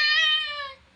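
A single drawn-out cat meow, clear and close, fading away at the end against a quiet background.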